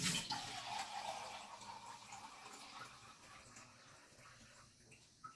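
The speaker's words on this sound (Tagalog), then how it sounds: "lagyan ulit natin tubig" Water gushes into pancake batter made with powdered milk, a close pour that starts strong and gradually thins and quiets to a trickle.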